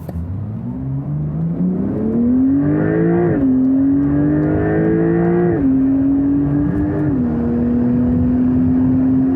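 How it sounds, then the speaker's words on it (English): Porsche 911 Turbo S accelerating hard from a rolling start, its engine roaring loud and close, pitch climbing through each gear and dropping briefly at the shifts before rising again. "And at 30 kilometers an hour, let's go."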